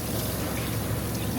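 Hot tap water running steadily while dishes are washed by hand at a campsite, a continuous close splashing rush with no pauses.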